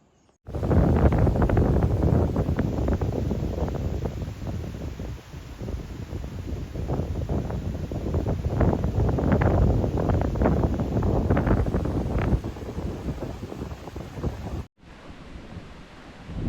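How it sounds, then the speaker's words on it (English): Strong wind buffets the microphone in loud, continuous gusts with a rumbling low roar on the Appalachian Trail, briefly cutting out near the end. "Another windy day"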